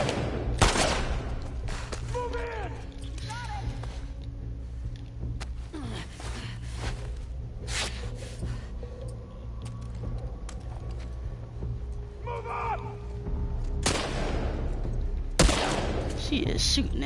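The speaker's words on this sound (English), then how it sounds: "She is shooting at me." An enemy fires at the player in The Last of Us Part II, a few sharp, isolated gunshots spaced seconds apart, with the last two close together, over quiet game ambience and occasional speech.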